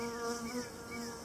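Honey bees buzz steadily around an open hive during a summer inspection, with a close, continuous hum and shifting wingbeat tones, faint and without talk.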